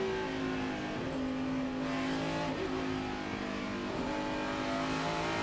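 A NASCAR stock car roars continuously at Sonoma Raceway during the 2006 Nextel Cup race, its engine note dipping briefly at two quick gear shifts before climbing again, loud and steady with no talking.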